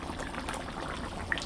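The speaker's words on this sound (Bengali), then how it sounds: "ফুটছে" A pan of spicy baim fish curry bubbles at a steady low boil, a faint, continuous simmering texture with no voices.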